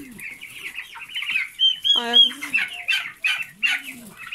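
Turkeys on a small farm call out in a few short, high gobbling and yelping bursts amid clucking poultry, close by, with a person speaking briefly over them.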